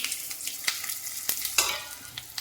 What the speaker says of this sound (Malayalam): ഒരു പാൻ അടുപ്പത്ത് വെച്ച് ചൂടായിട്ടുണ്ട്. അതിലേക്ക് ഞാൻ എല്ലാ സാധനങ്ങളും കൂടിയാണ് കൊട്ടി കൊടുക്കുന്നത്.